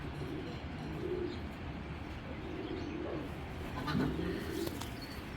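A male chok pigeon coos in a few low, soft, repeated phrases, with the calls heard close by over steady background noise and no talking.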